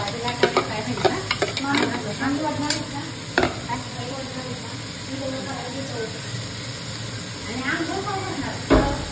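Chopped onion and tomato fry in a pan for a Kolhapur-style matar paneer masala, with a continuous close sizzle broken by scraping stirs and a few sharp clanks, and some talk in the background.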